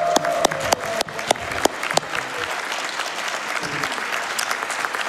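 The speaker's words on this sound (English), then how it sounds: "Everyone give some claps" Audience applause at Awesome Games Done Quick 2024 after an F-Zero speedrun race, dense steady clapping from a large crowd with a few sharper nearby claps, continuing for the whole stretch.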